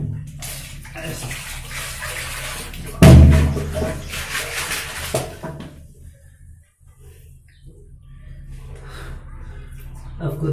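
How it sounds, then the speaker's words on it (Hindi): Cold water pours in a steady rushing stream during screen printing work, with a sharp knock or splash partway through, then the flow eases off and returns more quietly. "उसके बाद ठंडा पानी डालेंगे।"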